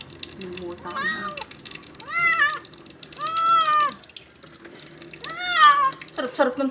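Water runs steadily from a tap while a pet is bathed, with a cat meowing loudly in several drawn-out cries over the flow and people talking nearby.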